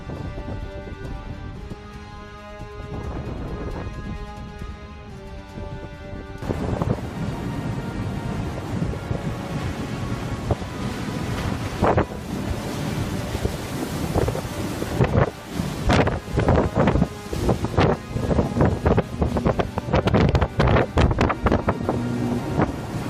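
A violent North Sea storm with howling wind buffeting the microphone and heavy waves crashing around ships, a steady roar that surges louder partway through with repeated sharp gusts and impacts.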